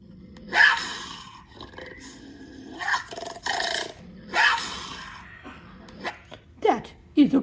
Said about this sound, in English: That is a puma or mountain lion, however you'd like to see it.